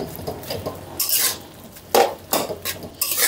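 Bathua greens stirred in a pan with a metal spoon, giving a few scraping, clattering strokes and clinks in irregular bursts, close and clear with no talking.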